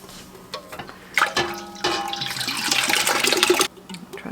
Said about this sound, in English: now I'm going to add a can of pineapple juice